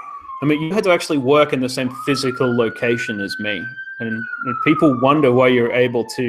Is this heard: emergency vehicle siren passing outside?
yes